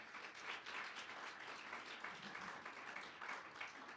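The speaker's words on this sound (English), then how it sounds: "Can we give a huge round of applause to Kendra Queen Taylor?" Faint, distant audience applause at a sobriety court awards ceremony, dense steady clapping from many hands with no voices.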